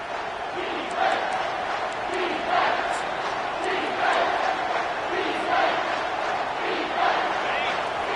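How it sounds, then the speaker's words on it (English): A football stadium crowd roars steadily on third down, a dense, sustained wall of cheering and shouting with rhythmic swells, heard alone at moderate loudness. "this crowd is tearing the lid off this place"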